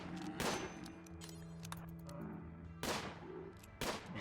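Bursts of gunfire from the video game Rimworld, version 1.3, crackle in short volleys at the start and again near the end, backed by a steady game soundtrack.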